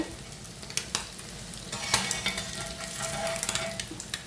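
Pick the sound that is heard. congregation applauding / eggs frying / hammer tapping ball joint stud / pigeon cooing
eggs frying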